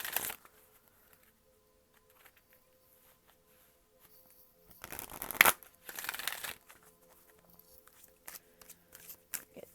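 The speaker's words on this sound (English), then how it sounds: "let's get some soul journey lesson cards out" Tarot-style soul journey lesson cards are shuffled in quick bursts, with a louder riffling flurry midway and a few light card rustles around it, close and alone with no talk.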